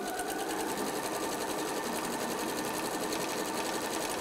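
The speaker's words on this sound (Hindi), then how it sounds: "पहले मैं सब एक साथ एक साइड को सिल लूंगी।" A sewing machine stitches pieces of a pinwheel quilt block with a 1/4 inch seam, its needle running in a fast, steady, unbroken rhythm close by for the whole stretch, with no talking over it.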